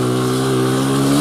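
A 2001 Honda XR100R motorcycle engine revving loudly up close, a steady buzzing single-cylinder drone with strong harmonics that climbs slightly in pitch as the throttle opens.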